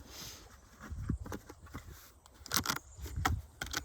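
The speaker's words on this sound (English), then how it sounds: "So let me just give it a good shuffle first." Soft papery riffling and clicking bursts come in quick irregular flurries, close and fairly quiet, like cards being shuffled by hand.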